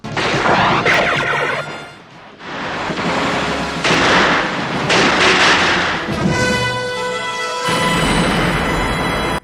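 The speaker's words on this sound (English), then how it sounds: "the pyrotechnics are definitely impressive" Film pyrotechnics from Brazil (1985): dense, loud bursts of explosions and gunfire crash repeatedly, with a short lull and then a ringing, tonal rumble near the end, no speech.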